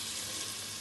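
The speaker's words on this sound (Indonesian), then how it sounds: "Nah ini kita bisa tumis terus sampai air dari dagingnya itu kering" Pork trotters stir-fried with spice paste in a pan give off a loud, close, continuous sizzle lasting under a second.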